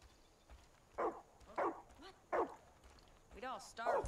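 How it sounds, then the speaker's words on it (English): A dog barks in Far Cry 5: three separate, fairly faint barks spaced about half a second apart, then a higher, whiny yelping sound near the end. "Is it my dog barking?"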